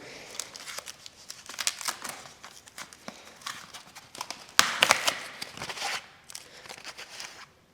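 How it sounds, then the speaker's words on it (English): Plastic packaging crinkles and crackles in repeated bursts as it is grabbed and handled while an electric bike is unpacked, with louder tearing rustles midway and quieter handling around them. "So I'm going to grab this last bit of packaging here."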